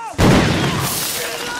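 A hand grenade thrown by Nazi soldiers explodes in a World War II film, a loud boom that hits suddenly and then leaves a long, rumbling, noisy wash.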